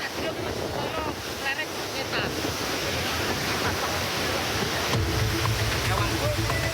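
Rushing floodwater from the burst Tuntang River embankment covers a road in Grobogan, Semarang, heard as a continuous loud wash mixed with wind buffeting the microphone, without pauses, under a news voice.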